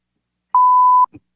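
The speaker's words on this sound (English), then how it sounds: "you got to beep that name out" A single steady censor bleep of about half a second, a clean pure tone standing alone in silence, used to blot out a name, with a brief soft murmur just after it.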